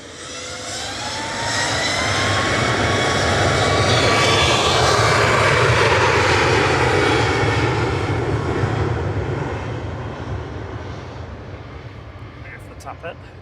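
A Ryanair jet airliner taking off at Manchester Airport, a loud, sustained engine roar that swells over several seconds, holds, then slowly fades with a shifting whine as the aircraft climbs away.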